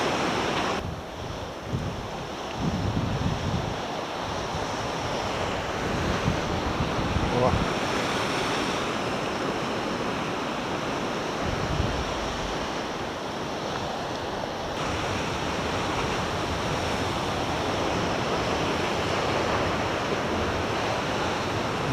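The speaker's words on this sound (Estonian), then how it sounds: "Õudne, kus vesi peksab siin" Ocean waves pound the rocky coast at Puerto de la Cruz, Tenerife, in a continuous roaring wash of surf with wind buffeting the microphone. A voice can be heard faintly beneath the surf.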